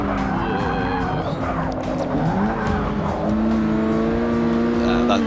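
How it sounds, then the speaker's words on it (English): A Ford Focus ST in Forza 6 accelerates out of a corner, its engine note rising and shifting steadily with tire squeal over a loud, continuous racing soundscape, a voice talking over it. "kind of just easing on the accelerator, not pinning the accelerator too hard"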